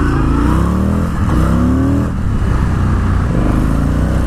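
A 2020 Indian FTR 1200 motorcycle engine drones loud and steady while riding in third gear at low revs, a continuous throaty rumble with slight pitch shifts as the throttle varies.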